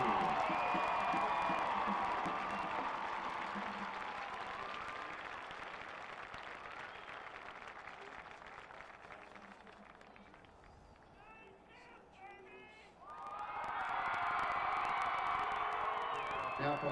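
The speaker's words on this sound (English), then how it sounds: "How about a nice round of applause for the 2017 Class 3 runners-up, the Mount Vernon Mountaineers" A stadium crowd at a Class 3 state championship football game for the runners-up, the Mount Vernon Mountaineers, applauding and cheering in a broad wash that fades to a lull, then swells again with whoops.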